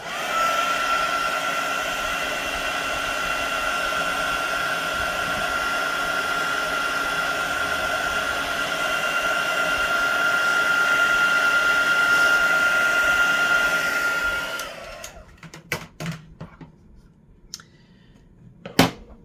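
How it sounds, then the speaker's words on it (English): Craft heat tool blowing hot air over a handmade card, a steady loud whooshing hiss lasting about fifteen seconds before cutting off, followed by a few faint clicks and handling taps. "I'm gonna hit this with the heat tool"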